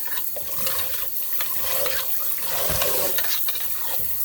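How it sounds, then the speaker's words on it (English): Tap water runs steadily and splashes as corned beef is rinsed in a kitchen sink, close and continuous for the whole stretch. "I'm going to rinse it thoroughly."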